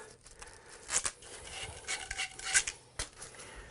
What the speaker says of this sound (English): Give them a good scratch with the sand cloth.